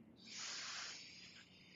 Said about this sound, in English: Firing up your Ujjayi breathing.